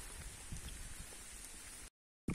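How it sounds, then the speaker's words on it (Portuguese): Light drizzle falls near a lagoon, a steady soft hiss of fine drops that runs unbroken, cuts to brief silence, then returns in a short burst at the end. "Ó, começou a garoa de novo."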